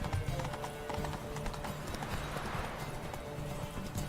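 Galloping horse hooves in The Witcher 3 video game, a rapid rhythmic clip-clop of hoofbeats at moderate volume, with faint game ambience behind.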